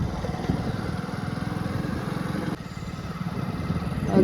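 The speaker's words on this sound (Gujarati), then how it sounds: "જમીન ખોદવાનું મશીન" An excavator's digging-machine engine runs steadily nearby, a continuous throbbing mid-pitched drone with a slight dip partway through.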